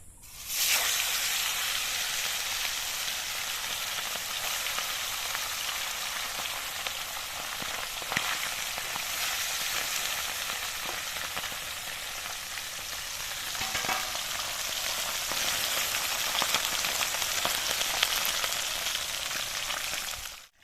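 Fish fries in hot oil in a wok, a loud, steady, close sizzle holding evenly for about twenty seconds with faint crackles and no talking.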